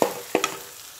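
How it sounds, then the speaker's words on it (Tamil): A spoon stirs chilli and coriander powders in a hot pan for masala egg curry, making a couple of quick scraping strokes over a faint sizzle. "கிண்டி விடுங்க."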